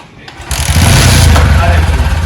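An old motorcycle engine with a fault starts abruptly and keeps running in a loud, close, steady rumble for the rest of the short stretch.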